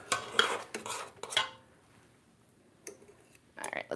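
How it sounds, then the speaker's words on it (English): A whisk beating frosting in a bowl, with quick close scraping and clattering strokes that stop, leave a quiet gap, and then start again briefly. "All right, let's give that another whisk."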